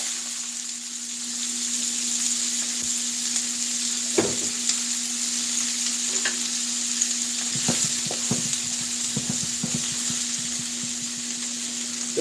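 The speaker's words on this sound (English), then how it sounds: "Throw my onions in that grease." Three diced onions hit hot grease in a pan for shrimp and grits, giving a steady close sizzle with scattered crackles and a few light scraping knocks, with no one talking.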